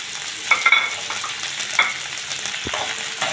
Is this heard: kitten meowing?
no